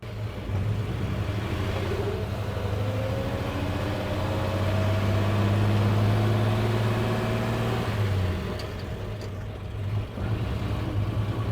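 A 1954 Chevy 3100 pickup truck rumbles along at low speed in a low gear, its engine droning steadily and fairly loud from inside the cab, pitch rising slowly then dropping at a shift.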